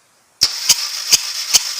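A Skoda Rapid 1.2 engine cranks over during a cylinder compression test, starting abruptly after silence with four evenly spaced, sharp pulses over a whirring starter, loud and close.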